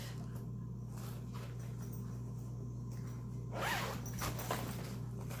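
The inside zipper of a bag is pulled with a short, raspy run, followed by a louder, longer zipping stroke near the end; quiet room otherwise, no voices.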